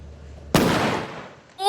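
A single firework goes off with a sharp loud bang that decays into a long crackling hiss, followed at the end by a short burst of excited voices.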